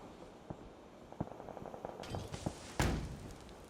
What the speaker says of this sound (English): It's like a mortar.